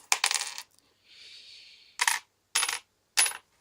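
Coins dropping onto a heap in quick bursts of bright metallic clinking, loud and close, with a softer sliding rustle between clatters and three separate short pours at the end.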